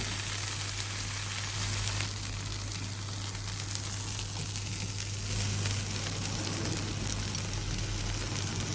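Food sizzles in a pan for a Moroccan home brunch, a steady, close frying hiss that runs throughout with a low hum beneath and no talking.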